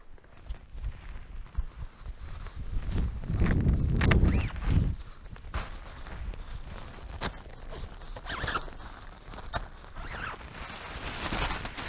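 A zipper on a Nurgaz Campout Family camping tent is pulled open in several quick, scratchy runs, with one longer, louder pull near the middle and faint rustling of tent fabric between the pulls.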